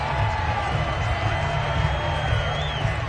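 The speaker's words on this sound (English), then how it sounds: "Plenty of shouts from this crowd as they watch the replay." A stadium crowd in a Madden football game keeps up a steady, dense roar of shouts and cheers, with a few higher whoops rising briefly above the wash.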